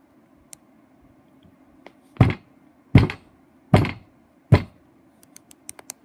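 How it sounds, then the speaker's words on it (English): Four heavy dull thuds land about a second apart, with a few faint light taps and clicks before and after. "That's the sound of me bashing my head."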